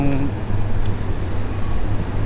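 A Laos-Thailand freight train locomotive gives a steady low rumble and engine hum, with a faint high tonal whine running through it, continuous and fairly close.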